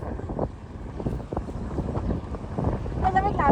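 Gusty wind at Al Ziena, Abu Dhabi, UAE buffets the microphone with steady rushing noise, a faint voice and brief tonal chirps near the end.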